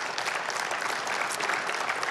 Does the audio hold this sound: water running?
no